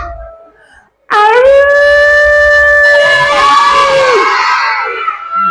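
A single long, rising-then-sustained wolf howl imitated by a voice, loud and close, wavering before fading out; brief quiet before it starts.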